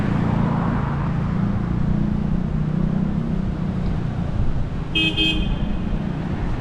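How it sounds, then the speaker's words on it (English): Steady roar of nearby road traffic in Iloilo City, Philippines, heard from a brick sidewalk, with engines rumbling, and a short car horn toot sounds near the end. "I can always tell that I am in the city just because of the noise."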